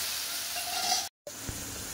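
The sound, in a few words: spices sizzling in hot oil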